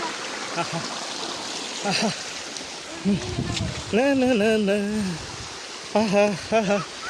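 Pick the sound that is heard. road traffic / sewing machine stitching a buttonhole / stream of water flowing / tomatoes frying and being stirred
stream of water flowing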